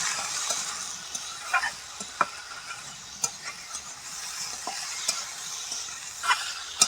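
Potatoes, fried onions, turmeric and salt are stirred in a pan over steady sizzling frying, with scraping strokes and light clicks of the spoon at an uneven pace.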